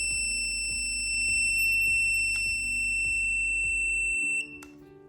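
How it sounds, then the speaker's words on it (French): A K18 detector emits a steady high electronic tone with a regular ticking pulse as its probe nears a magnetic object, ending with a brief sharper beep. "l'appareil émet un signal sonore pour vous avertir de la présence d'un objet magnétique suspect à proximité"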